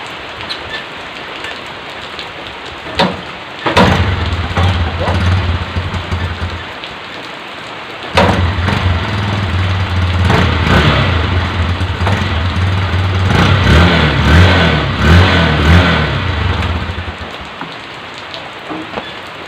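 A Honda CB125 motorcycle starts and idles with a steady low engine rumble, dropping briefly before catching again, under a hiss like rain.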